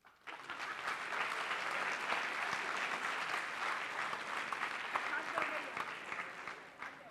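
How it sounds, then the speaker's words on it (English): Audience applause at a college induction program, a steady, moderately distant wash of clapping that swells in quickly and holds for several seconds before easing slightly. "Guys, clap."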